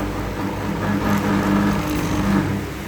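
A Paktem driven carpet washing machine hums steadily as it brakes to a soft stop, its low motor drone holding fairly even and easing slightly toward the end, close and alone.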